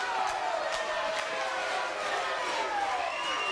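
A wrestling crowd at an Epic event cheers and roars steadily for the Zebra Kid during a world title bout, forming a dense, continuous wash of voices with a few sharp shouts rising above it.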